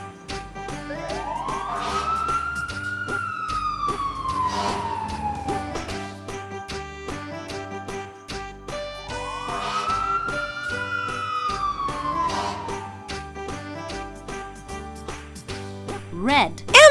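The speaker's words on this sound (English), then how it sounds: "Red. Fire engine." Toy fire engine siren playing two rising-and-falling wails over an electronic melody, fairly loud and close, with a brief clatter at the end.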